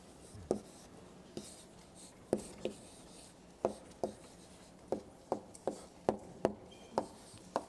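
Chalk or marker writing on a board during an organic chemistry lecture: a series of faint, sharp taps and short strokes in an irregular rhythm in a quiet room.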